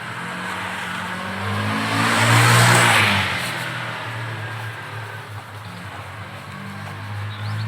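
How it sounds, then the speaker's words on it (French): A scooter speeds past on a road, its engine whine swelling to a loud peak and then fading away as it goes by. "C'est une moto, ça, plutôt. C'est un scooter."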